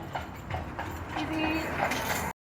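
Hooves of a large draft horse on a carriage ride around Savannah clip-clop in a steady rhythmic beat under someone talking, moderately close, before the sound cuts off abruptly.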